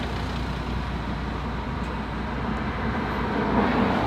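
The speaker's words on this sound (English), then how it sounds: "All these cars driving past." Steady roar of cars driving past on a nearby road, a continuous broadband traffic wash with low rumble that swells slightly toward the end, with no voices.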